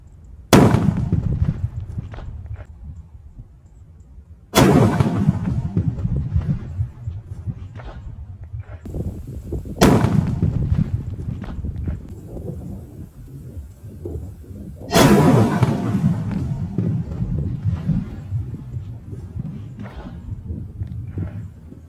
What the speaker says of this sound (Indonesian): Tadi kita menyalakan mercon korek Corsair terbesar guys.